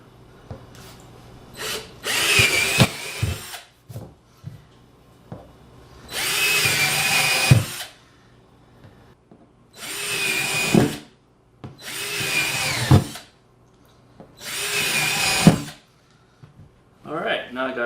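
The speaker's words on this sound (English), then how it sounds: "Alright, so now I'm going to drill our holes." A power drill bores holes through the plastic ribs of a worm compost bin in five separate bursts, each lasting one to two seconds, with a steady whine at close range and quiet pauses between them.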